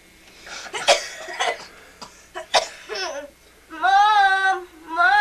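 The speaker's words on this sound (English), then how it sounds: "I got this nagging cough." Child's cough in a medicine commercial, a few rough bursts spread across the clip, then a high sustained whining or crying voice toward the end, close and fairly loud.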